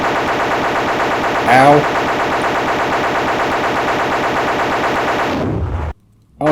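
Rapid, continuous machine-gun-style gunfire from the 1993 DOS game Microcosm as the fire button is tapped, loud and unbroken, with a brief voice exclamation and a short silence near the end before the firing resumes.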